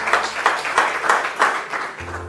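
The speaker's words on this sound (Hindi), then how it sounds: "एक बार जोरदार तालियां।" Short round of clapping from a group at a public speaking training session, a few distinct rhythmic pulses of hands striking together, fairly close and moderately loud, ending abruptly.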